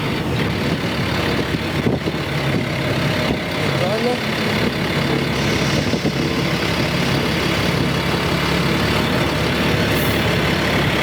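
A Stryker armoured personnel carrier's engine runs loud and close, with a continuous droning rumble and no pause across the whole stretch.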